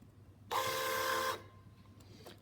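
An Epson TM receipt printer resetting to factory defaults gives one loud buzzing mechanical burst just under a second long, followed by faint clicks.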